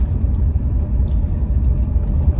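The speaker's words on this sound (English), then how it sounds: "this is an awfully smooth engine" A Bentley Turbo R with its 6.75-litre turbocharged V8 hums low and steady while driving, a smooth continuous rumble with no speech over it.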